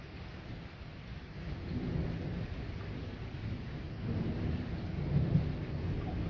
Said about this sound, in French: un orage violent, voire même peut-être ultra violent là où c'est passé